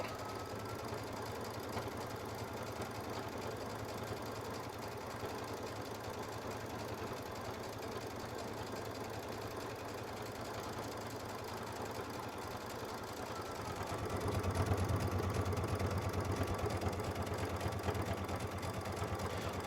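A Baby Lock sewing machine quilts with a leather roller foot, giving a continuous fast mechanical whir and hum that steps up louder toward the end.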